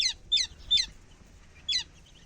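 Chicks chirp in a short, bright series of four high peeps, three in quick succession and one after a pause, over a quiet background.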